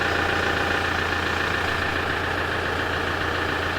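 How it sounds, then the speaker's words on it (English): An air compressor runs steadily to pump a tyre back up, a constant loud mechanical drone with a low hum and no pauses, heard alone. "I've just started the compressor"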